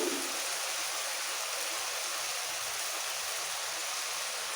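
Water poured into a spiced masala paste in a pan while cooking katla fish curry, a steady, loud rushing pour that fills the whole stretch without a break.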